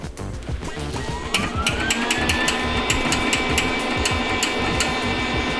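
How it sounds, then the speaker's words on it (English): A gas-shielded welder tack welds steel while a homemade 20-tonne hydraulic press is built. A loud, steady electrical buzz carries a rapid crackle and a rising motor whine, with no voices. "he's gonna quickly give it a tack weld. Gas is on."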